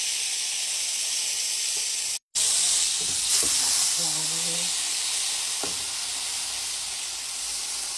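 Pot roast meat sears in hot oil in a pot, giving a continuous, fairly even hiss and sizzle with a few soft clanks along the way.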